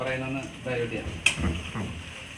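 Food being stirred in a cooking pot during a family road trip, soft scraping with one sharp utensil clink against the pot, under low talk and cooking noise.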